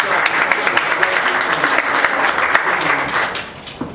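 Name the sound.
audience applause at a conference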